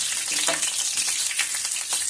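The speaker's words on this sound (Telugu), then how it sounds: "లో ఫ్లేమ్లో పెట్టుకుని మనం పోపులు అయితే వేయించుకోవాలి" Steady, close sizzling of tempering spices frying in hot oil on a low flame, a continuous crackle with small pops and no talking.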